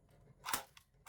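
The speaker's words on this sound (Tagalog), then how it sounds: "Pag semi, isa lang yung putok niyan, siyempre." A gel blaster toy gun fires one shot in semi-automatic mode, a single sharp snap near the middle, with a fainter click right at the end and no talking.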